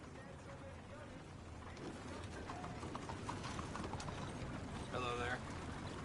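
Horse hooves clip-clop steadily at a walk in Red Dead Redemption 2, a quiet rhythmic patter under outdoor ambience, with a brief voice-like sound near the end.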